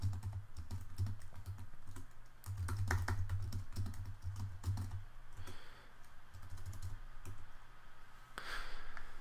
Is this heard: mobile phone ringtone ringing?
no